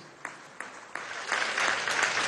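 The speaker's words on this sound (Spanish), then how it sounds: "un aplauso, Mérida" Applause from the crowd at a Venezuelan government housing event in Mérida, starting with a few scattered claps and swelling into steady, dense clapping by the end.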